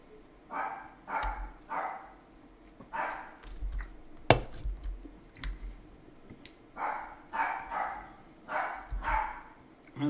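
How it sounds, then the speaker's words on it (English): A dog barks indoors in repeated bursts of two or three, at moderate distance, with a sharp click or knock partway through and quiet stretches between barks. "I'm sorry the dog's barking."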